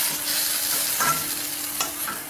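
Thuthuvalai leaves are sautéed in ghee in a pan for rasam, giving a continuous soft sizzle broken by a few scraping stirs of the spoon, close by and fairly loud.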